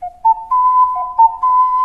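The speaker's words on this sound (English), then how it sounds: "or an ocarina" An ocarina plays a short, clear, breathy melody of several pure whistling notes, close and alone.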